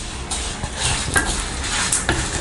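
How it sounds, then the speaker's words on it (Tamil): Dried red chillies crackling and frying in hot oil in a clay pot for village-style mutton kuzhambu, a steady sizzle with scraping stirs and small pops, close and fairly loud. "நல்லா பொரிய ஆரம்பிச்சிருச்சு."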